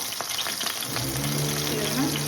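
Tadka of onions, ginger and garlic frying in hot oil for mustard greens saag, a soft continuous sizzle with crackling pops that swells as the ingredients hit the pan, heard close at low volume.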